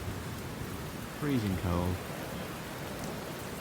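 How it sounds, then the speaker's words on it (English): Rain falls steadily on a freezing cold road trip in snowy country, a constant soft hiss throughout, with a person briefly speaking over it partway through. "It's raining, plenty of snow"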